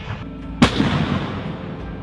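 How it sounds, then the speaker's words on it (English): An M109 self-propelled howitzer fires its 39-caliber 155mm M284 cannon: one sudden, loud boom cracks out early, then a low rumbling decay rolls on to the end. "The M109 is equipped with a 39 caliber 155mm M284 cannon and has a firing range of 15 miles"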